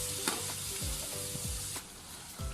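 Boiled chickpeas for masala sundal, tipped into a kadai along with their cooking water, sizzle and bubble loudly up close, with a few stirring scrapes in between.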